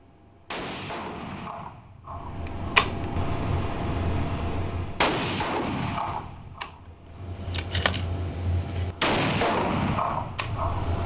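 Rifle shots from a 6.5 BC cartridge during test shooting on a range, several sharp loud cracks spaced a few seconds apart, each trailing into rumbling echo over steady outdoor background noise.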